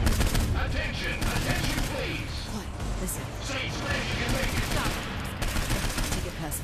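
Rapid bursts of gunfire in the video game Saints Row IV, dense and loud throughout with repeated automatic volleys, heard under a voice and other game sounds.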